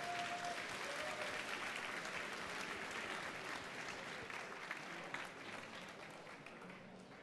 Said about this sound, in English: give this panel a round of applause for what they've done tonight